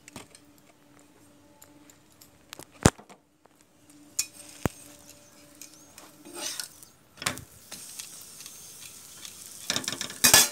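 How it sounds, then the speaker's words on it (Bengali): Food frying in oil in a pan, a soft sizzle broken by sharp clacks and rattles of utensils against the pan, growing busier and louder toward the end. "ভেজে নিচ্ছি।"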